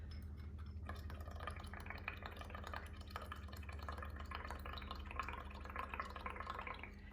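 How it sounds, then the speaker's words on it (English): Bubbles blown through a straw into a container of water tinted with food coloring, a soft, continuous bubbling gurgle that runs for several seconds, quiet and close. "blow bubbles with your straw in the bottom"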